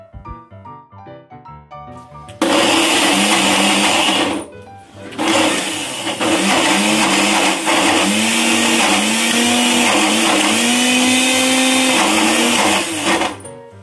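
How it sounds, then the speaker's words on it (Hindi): A kitchen mixer grinder blends softened, cooled tomatoes into a fine paste, running loud and steady for about eleven seconds with a brief dip midway, its motor whine rising in pitch as the paste smooths out. "जब ये ठंडा हो गया है तब मैं इसे मिक्सर ग्राइंडर में डालकर इसे ग्राइंड कर लूँगी और एक फाइन पेस्ट बना लूँगी"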